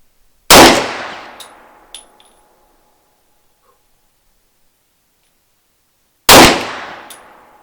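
Two loud, sharp shots from a Mauser C96 pistol in 7.63 caliber, several seconds apart, each followed by a short ringing decay and a faint metallic clink after the first.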